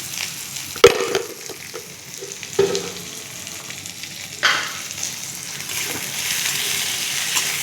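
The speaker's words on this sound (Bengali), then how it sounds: "পেঁয়াজটা যত তাড়াতাড়ি ভাজা হয়ে যায়, তাড়াতাড়ি নরম হয়ে যায়" Onions fry with salt in a pan for masoor dal with pumpkin greens, giving a loud, steady sizzle broken by clattering stirs and scrapes of a spoon.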